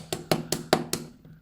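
Five sharp, evenly spaced taps of a small hard fly-tying hair stacker tube knocked on a tabletop, close and quick, fading into quiet.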